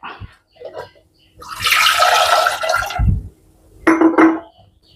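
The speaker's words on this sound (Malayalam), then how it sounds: "ഇതിലേക്ക് വെള്ളം ഒഴിക്കാം." Water poured into a pressure cooker holding eggs for boiling, a bright splashing gush of about a second and a half, then a second shorter pour, close and loud with no talk.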